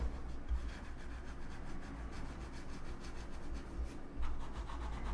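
A computer mouse with large feet scrapes across a bare desk surface in a continuous, gritty rubbing sound, quiet and close, with slight swells as the strokes change direction.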